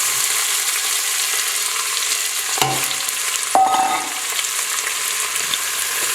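Onions and garlic hit hot oil for ratatouille, a loud, dense, even sizzle close by, with a couple of brief knocks from the pan or utensil.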